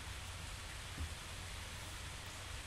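Steady rain in the video game Phasmophobia, a soft, even hiss of falling rain throughout, faint and unbroken, with no voices.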